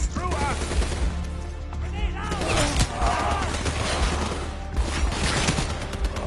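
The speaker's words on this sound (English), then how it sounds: "Fireflies, a swarm of incendiary nanobots." The Fireflies cyber ability in a video game, a swarm of incendiary nanobots, fires off as a dense barrage of crackling, popping bursts and sizzling impacts, loud and continuous over a low rumbling background.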